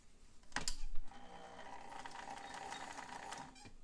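A White 510 flip flop sewing machine running a zigzag stitch at its widest setting: a few sharp clicks and a knock at the start, then a steady, close mechanical whir with fast rhythmic ticking, with no voices.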